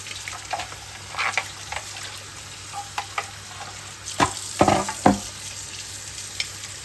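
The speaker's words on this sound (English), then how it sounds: "Okay, initial rinse is done here." Parts of a Hurom H300 juicer are rinsed under running water, with a steady background hiss and scattered splashes and clatters of plastic pieces, a few sharper knocks near the end.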